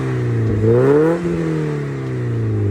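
A Mazda Miata with a Racing Beat exhaust gives one smooth rev, its tone climbing briefly and then settling back to a steady, fairly loud hum.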